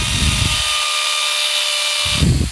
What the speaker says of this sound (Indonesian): Kita gunakan untuk ngebor sekarang.